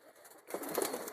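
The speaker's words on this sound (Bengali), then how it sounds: "বুনো কালারের পায়রাটা মনে হয় বাইরে এই যে বাইরে দিয়ে কুটুর কুটুর করছে" A soft, low pigeon coo rises briefly, close by and faint, over quiet rustling.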